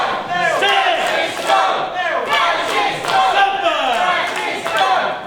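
A live wrestling crowd at an Addington show roars and chants continuously as the referee counts, loud and dense with rising whoops throughout.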